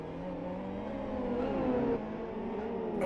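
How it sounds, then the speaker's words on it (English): Race car engine in the Live for Speed video game, running hard through the South City streets, a steady loud drone with rising revs and reverberant echo off surrounding buildings. "you could hear the engine, the reverb of the engine on the streets of South City"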